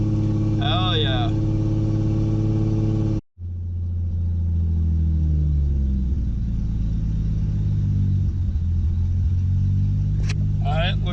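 An engine idles with a loud, steady low rumble up close, briefly cutting out for a moment before settling back into an even, throbbing idle.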